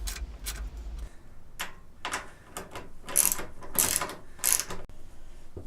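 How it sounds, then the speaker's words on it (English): A ratchet clicks in quick bursts as a fuel tank bolt on a Kawasaki KLR650 motorcycle is tightened, close and loud, with short pauses between strokes. "we're going to ratchet down the tank"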